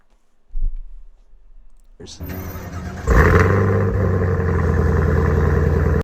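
A rare Chevrolet Camaro starts with a click and a brief crank, then its engine catches and settles into a loud, steady rumble with a rising rev, while people talk over it.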